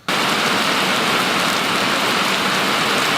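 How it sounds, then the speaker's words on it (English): Heavy rain during a big storm while hiking outdoors, a dense steady roar of downpour that starts abruptly and stays loud and constant throughout, with no voices. "It rained like crazy yesterday."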